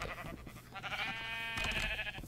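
Sheep bleat in an arcade video game, a sustained wavering bleat running through the whole stretch over busy game music and effects, loudest toward the end.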